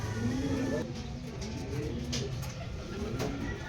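Racing pigeons cooing near a loft during a derby training flight, soft repeated coos close by alongside rustling and background noise, with a person talking in the clip.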